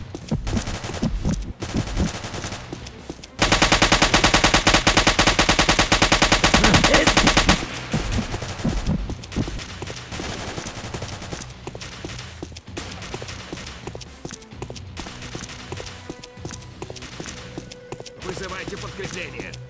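Sustained bursts of automatic gunfire in the Marine Sharpshooter 4 shooter game, a dense loud volley in the middle with scattered shots and combat noise around it, with voices heard at times.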